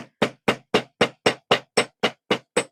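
Eleven crisp, evenly spaced strikes of a metal hammer on wire in quick succession, each a sharp metallic tap, close and fairly loud.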